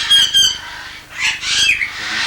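Parrots in an aviary, among them a pair of red-vented cockatoos, let out loud, harsh squawks and screeches up close in a few rough bursts, with short pauses between calls.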